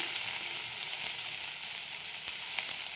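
Sliced onions frying in a pan with black cumin, a steady loud sizzle that runs unbroken throughout with faint crackles and no talk.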